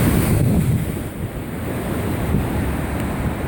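Snowmelt floodwater pours loudly through the grated intake of the Lopushna hydropower plant, a heavy, continuous roar with wind buffeting the microphone.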